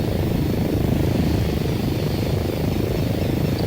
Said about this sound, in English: And the aircraft is now going to start trying to fly between all those points.